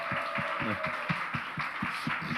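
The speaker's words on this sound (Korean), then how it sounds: "우리 수고한 하겸이한테 한 번만 더 박수해 주겠습니다." Audience applause at a church young adults' gathering, rhythmic claps pulsing steadily over a dense crowd wash, fairly near and moderately loud.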